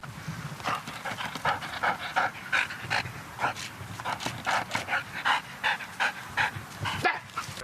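A drug-sniffing service dog working checkpoints in Ukraine's Kharkiv region pants steadily and rhythmically close up, quick breaths repeating throughout, with no one speaking.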